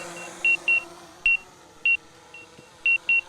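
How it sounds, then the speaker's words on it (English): An Autel EVO Lite+ drone controller gives a series of short, identical electronic beeps at irregular intervals, seven in all, clear and close over a quiet background hum. "So that beeping, it would be nice to disable"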